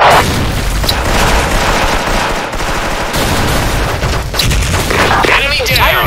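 Grenade blasts and heavy gunfire in a shooter video game: dense, continuous bursts of automatic fire with booming impacts, loud and close throughout, with voices shouting over the battle.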